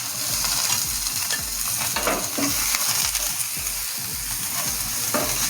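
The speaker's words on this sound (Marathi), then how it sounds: "हा कांदा आपल्याला 1 मिनिटभर लाल होईपर्यंत परतून घ्यायचा आहे" Two chopped onions sizzling in a spoonful of oil in a pan on a gas stove for misal, a loud continuous fry with repeated scraping and stirring strokes and no talk.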